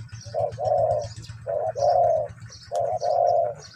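A spotted dove coos in the morning, three clear rounds of low, hooting phrases close by, each with a rising note and a longer drawn call, over a faint low hum.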